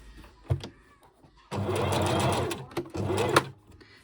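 A sewing machine runs in two bursts while top-stitching a shaped washable fabric face mask, each a loud, steady whirring run of about a second and a half, separated by a short pause and bracketed by small clicks of fabric handling.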